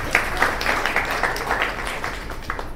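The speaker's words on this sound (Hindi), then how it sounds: "ताली बजाओ।" An audience at a business health seminar claps along, a loud uneven patter of many hands with sharper bursts, sustained across the whole stretch.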